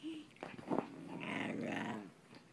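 Eight-week-old Pomeranian puppies growling as they play, a close string of small rumbling growls and short yips in a quiet room, with no talking.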